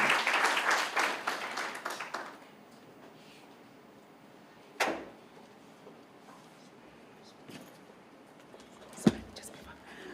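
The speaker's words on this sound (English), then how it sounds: "Can we give him a round of applause?" Audience at a corporate social responsibility presentation giving a round of applause, a brief burst of clapping that dies away within about two seconds, leaving a quiet room with a couple of faint knocks.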